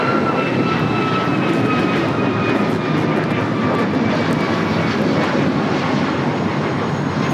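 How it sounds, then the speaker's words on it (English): United Airlines Boeing 737 MAX 9 jet taking off, a loud continuous roar of engines with a steady rushing wash and faint whining tones, sustained without a break. "This is United Airlines 1539 taking off to Houston Intercontinental on the MAX 9"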